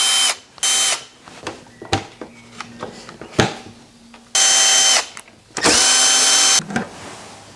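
A cordless power driver whirs in several short bursts undoing the windscreen screws on a KTM 1290 Super Adventure motorcycle, with clicks and handling knocks between the loud runs.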